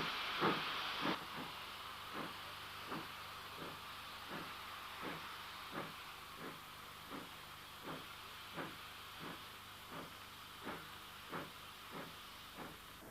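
A BR 9F steam locomotive, 92082, leaving Birkenhead shed: a strong hiss at first, then a slow, regular run of faint exhaust chuffs at a distance, no talk.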